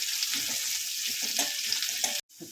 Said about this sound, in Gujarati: થોડી બ્રાઉન થાય ને ત્યાં સુધી આપણે અને ડુંગળીને ચડવા દઈશું